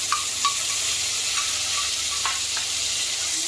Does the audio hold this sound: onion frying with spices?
yes